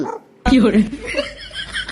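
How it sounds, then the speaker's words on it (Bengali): A mobile phone ringtone of a puppy barking goes off in a classroom, a sudden burst of loud, close yips and whimpers after a brief quiet moment, mixed with voices. "কুকুরের বাচ্চা ঢোকেনি এটা আমার মোবাইলের রিংটোন"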